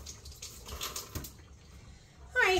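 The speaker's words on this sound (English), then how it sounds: "Let me rinse this off." An item is rinsed under a running kitchen tap: a steady wash of water for about a second, then a quieter trickle, ending with a brighter splash near the close.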